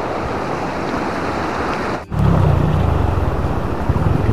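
A clear river flows broadly while someone crosses it, a steady wash of rushing water with a brief dip in the middle, after which deeper, louder churning sloshes up close.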